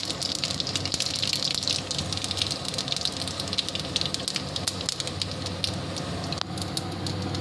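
Dried red chillies and panch phoron sizzle in hot mustard oil with a loud, dense, steady hiss and crackle that carries on without a break.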